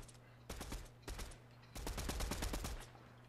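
Gunfire in the video game Fortnite, several quick bursts of sharp cracking shots separated by short pauses, fairly faint over a low steady hum.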